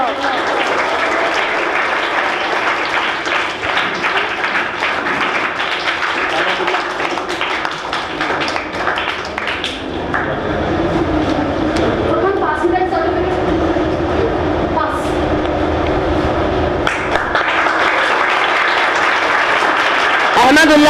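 A large school audience claps steadily for a trophy winner at a high school special program, with a continuous dense wash of applause and a voice speaking over it throughout.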